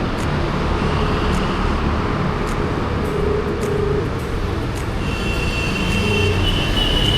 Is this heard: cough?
no